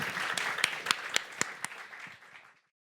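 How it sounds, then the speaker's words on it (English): A small audience at a roundtable panel event gives a short burst of applause with a few distinct sharp claps, fading out after about two and a half seconds into silence. "I think a big applause for our panel"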